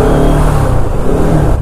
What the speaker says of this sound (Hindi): गंदा वाला ट्रैफिक